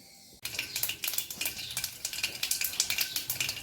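Mustard seeds popping in hot oil for a tempering in a pan, starting suddenly with a dense, rapid crackle of sharp pops that continues close and loud throughout.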